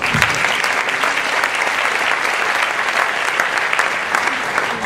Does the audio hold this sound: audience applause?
yes